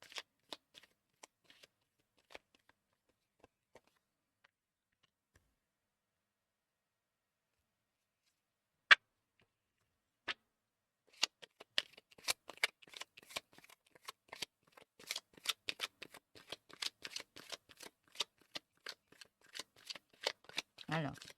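Tarot cards handled quietly at first, with sparse soft clicks, then shuffled in a dense run of crisp riffling snaps over the last ten seconds, close and fairly faint.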